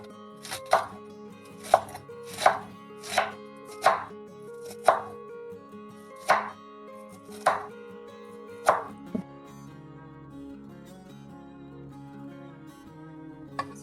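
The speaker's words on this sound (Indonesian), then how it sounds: "Sekarang kita iris kolnya. Kita iris tipis saja." Cabbage is sliced thinly with a knife on a board, giving a steady run of about ten crisp, close chopping strokes followed by a quieter pause.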